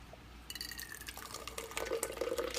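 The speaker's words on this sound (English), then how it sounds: "Never mind my water. I'm doing my dishes." Running tap water splashes into a kitchen sink while dishes are washed, a faint, steady stream with small clinks and splashes growing busier toward the end; no one speaks.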